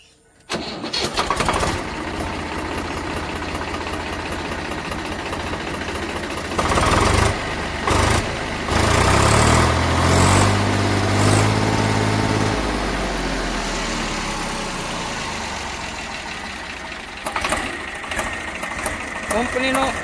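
A used Massey 1035 or Sawraj farm tractor engine cranks and fires, then settles into a loud, close, steady diesel idle with a rhythmic chug, with a few brief knocks near the end.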